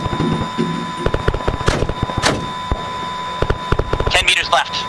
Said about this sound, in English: Fire three rounds and then fucking adjust